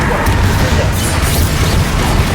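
In the Hogwarts Legacy video game, a Confringo blasting curse explodes as a loud, dense, sustained boom with heavy low rumble that fills the whole moment.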